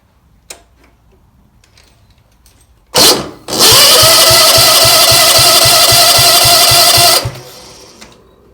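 A 1968 Wheel Horse Raider 9 garden tractor engine cranked over by the starter for a compression test: a loud, steady whirring crank with rhythmic compression pulses for about four seconds, preceded by a short burst and some small clicks.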